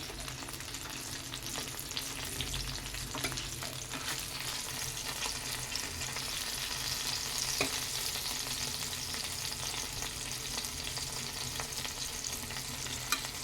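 Small mourola fish fry in a pan with a continuous soft crackling sizzle, with occasional light clicks as the fish are turned.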